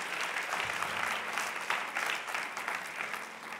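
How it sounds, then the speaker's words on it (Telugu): A church congregation applauding loudly together, steady dense clapping that carries through the whole stretch with no talk over it. "ఆయనకు ఒకసారి గట్టిగా చప్పట్లు కొట్టండి."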